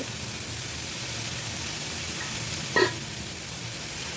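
Onions sautéing in oil with salt, a steady soft sizzle of frying with one brief stirring clatter near the end, close and fairly quiet with no talk.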